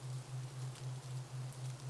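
Soft, even rainfall hisses beneath a low, steady tone that swells and dips in a regular pulse, quiet and continuous with no one speaking.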